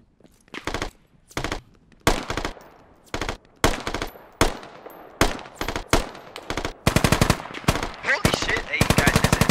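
Machine gun fire from a Squad firefight: loud, close bursts of automatic shots separated by short pauses, turning into longer sustained rattling toward the end.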